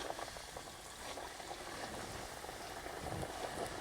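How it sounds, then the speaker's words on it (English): Steady, dense sizzling and bubbling of chicken wings frying in hot oil, continuous and fairly loud, with no talking. "we can go ahead and start frying. Be very careful when you're putting this in the oil."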